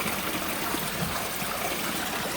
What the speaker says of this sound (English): This is like the natural spring water.